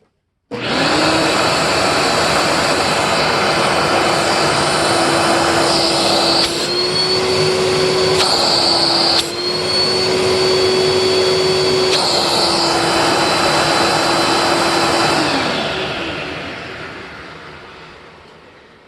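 A 1994 Dirt Devil Classic vacuum cleaner runs loud and steady for about fifteen seconds, with a high motor whine that shifts briefly as the suction load changes, then winds down.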